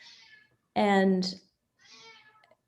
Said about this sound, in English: sorry, my cat is in the background